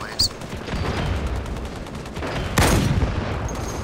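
Gunfire in Halo 2 Anniversary rattles in rapid bursts with a louder blast near the end, close and busy, under someone talking.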